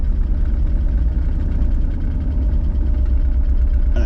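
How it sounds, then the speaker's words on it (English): Engine of a Porsche 914 idling roughly and unevenly, a loud, steady, close-up low rumble that runs without a break the whole time. "She starts up, she runs. Idle's still all over the place"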